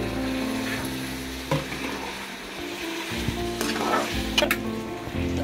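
Red and yellow capsicum sizzling and frying in a pan for Korean chow mein, a steady hiss with a few stirring clatters and scrapes, close and clear under a low background hum.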